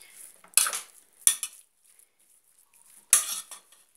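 A utensil stirs garlic and seasoned food in a pan while cooking rice, ground beef and sautéed zucchini. Three quiet metallic clinks and scrapes stand apart, with faint background hiss between them.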